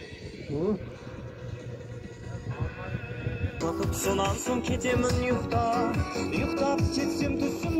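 Racehorses in a 25 km alaman baige long-distance race in Aksu district, Zhetisu region, with whinnying calls over a dense, loud, continuous din; voices carry throughout and the noise swells louder partway through.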